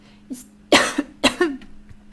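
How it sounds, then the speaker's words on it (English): Three or four harsh coughs in quick succession, close and fairly loud, each a short broadband burst with a rough throaty tail, spaced by brief pauses. "I had a coughing episode"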